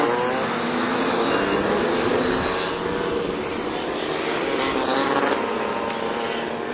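A Supers race car at Croft circuit runs after being started, its engine holding a loud, steady droning tone close by.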